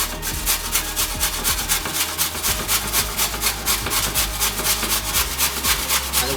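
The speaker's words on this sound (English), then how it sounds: "I'm just going to grate all the potatoes right now" Potatoes and a carrot rubbed down a box grater, rapid rhythmic rasping strokes in a steady back-and-forth pattern, close and even, with no talking.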